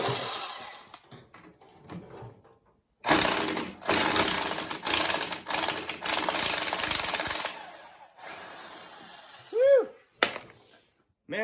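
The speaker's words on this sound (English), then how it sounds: "So I'm going to try just using my impact, and hopefully that bolt backs right up out of there." An impact wrench on a Honda Big Red 250 trike rattles loudly in several hard bursts, each a second or two long, with quieter shop noises before and after and a couple of short tonal squeaks near the end.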